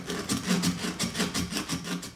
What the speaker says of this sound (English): just keep sanding down with this same principle